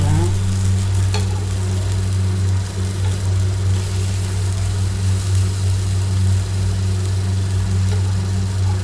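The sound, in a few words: tiffan batter frying and being flipped in a pan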